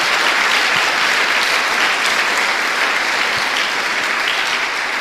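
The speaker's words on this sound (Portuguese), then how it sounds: "Dê uma salva de palmas ao Senhor." A church congregation applauds in steady, dense clapping that fills the whole stretch, loud and sustained without pause, with no distinct voice rising above it.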